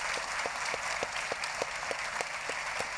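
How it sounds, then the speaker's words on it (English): Steady applause from a book festival audience, a dense wash of clapping with distinct individual claps popping through at a regular pace. "A round of applause for Joe, who's been signing for us."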